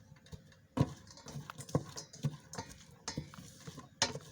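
Onion, ginger-garlic and cumin paste is stirred in hot mustard oil in a rice cooker bowl, giving soft rhythmic scrapes and knocks with a faint sizzle, quiet and close.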